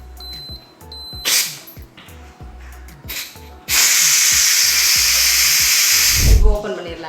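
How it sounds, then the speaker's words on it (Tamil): Steam bursts from a pressure cooker as its pressure is released while cooking baingan bharta: a loud, continuous hiss that starts abruptly after some quieter rhythmic clicking and scraping, then rumbles and sputters near the end. "ஸோ இப்போ வந்து ப்ரெஷர் ரிலீஸ் பண்ணிடலாம்."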